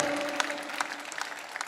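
An audience claps at a Hindi patriotic poetry recital, a brief burst of scattered applause with sharp individual claps, fairly close and loud.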